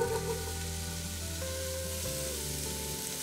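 Onions and minced garlic hit a hot pot for a beef barley braise, giving a steady, soft sizzle and frying hiss that holds evenly throughout, close and fairly quiet with no talk over it.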